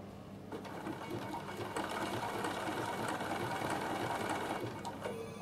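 A Bernina sewing machine stitches fabric for a produce carry bag, running at a steady mechanical whir with rhythmic needle clatter, close and continuous before slowing at the end.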